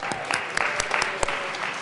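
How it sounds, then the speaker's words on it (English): Legislators in the Colorado House chamber clap for visiting students from Stargate Academy, a short burst of scattered, uneven handclaps at moderate distance with a few sharp individual claps standing out. "Let's give them a round of applause."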